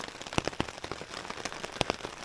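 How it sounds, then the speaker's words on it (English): Rain falling on a tarp shelter at a wild camp, a steady patter with sharp, irregular drops striking the fabric close overhead, heard alone without speech. "The rain has not stopped."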